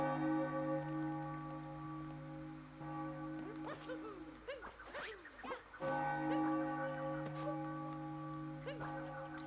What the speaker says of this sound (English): Oh, you can stand on the bell.